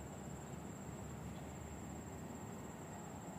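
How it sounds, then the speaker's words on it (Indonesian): A Jakarta–Bandung high-speed train pulls into a station, a steady broadband rumble of wheels and rail with a thin high whine running throughout, loud and continuous with no talk. "udah masuk keretanya guys"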